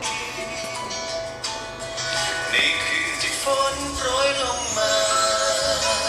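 Music with a bright, thin tone plays from iPhone 7 speakers at moderate volume, steady and continuous for a few seconds.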